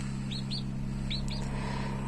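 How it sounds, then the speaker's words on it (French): Baby chicks in their cage near a heating panel give four thin, rising peeps in two quick pairs over a steady low hum. "vous les entendez peut-être sans les voir parce qu'en fait les premiers, nos 4 premiers petits poussins, ils sont dans leur cage"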